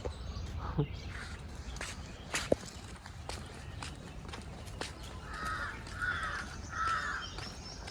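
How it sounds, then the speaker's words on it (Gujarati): Three harsh crow caws in quick succession near the end, with footsteps and quiet outdoor sounds before them, in Sarthana Nature Park, Surat. "કાગડા બોલતા લાગે"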